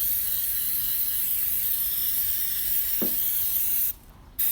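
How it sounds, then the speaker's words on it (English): Brake cleaner hisses steadily from an aerosol can in one long continuous burst, close up, then cuts off briefly near the end before resuming. "I'm just going to give it a little bit of a spray down with some brake clean."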